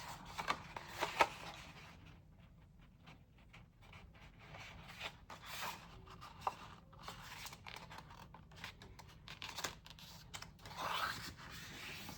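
Sheets of stiff paper are folded in half by hand for a handmade journal. Quiet, close crinkling and rubbing comes in short scrapes and creases, and no one speaks.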